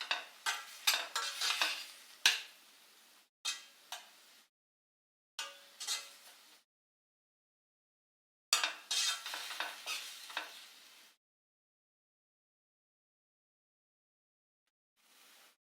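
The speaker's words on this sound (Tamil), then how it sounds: "தக்காளி ஓரளவுக்கு நல்லா வதங்கிருச்சு." Tomatoes sautéing in a pan for dhaba-style paneer masala, stirred in several short bursts of sizzling and scraping separated by silent gaps, fairly close and clear, with no talking.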